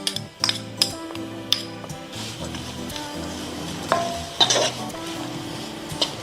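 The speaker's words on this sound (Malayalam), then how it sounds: "ഇതെല്ലാം കൂടിയും ചേർത്ത് നമുക്ക് നന്നായിട്ട് വഴറ്റിയെടുക്കാം." Onion, ginger, green chili and curry leaves sautéing in coconut oil, with a steady soft sizzle under repeated spoon scrapes and clinks against the pan, close by and moderately loud.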